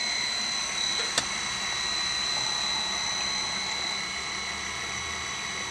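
Swimming pool pump motor running at a reduced 35 hertz, a steady continuous hum with a constant high whine, one brief click early on and no talking.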